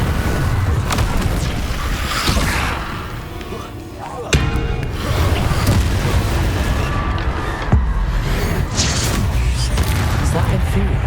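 Spell-casting in Hogwarts Legacy, Incendio fire blasts bursting with booming impacts amid continuous dense combat noise and a few sharp thuds, with a voice shouting over it.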